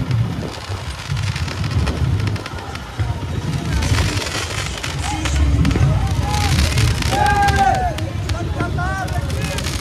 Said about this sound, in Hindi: देखो पटाखे छूट रहे हैं सारे भाई